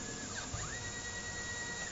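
A CNC machine routes the outline contour of a printed circuit board. It makes a continuous, even, high-pitched whir with a faint steady whine, close by and alone, with no talking.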